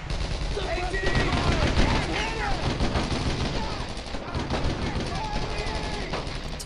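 Dense, continuous World War II gunfire from the video game Brothers in Arms: Road to Hill 30, a steady rattle of rifle and machine-gun shots with shouting voices mixed into the battle din.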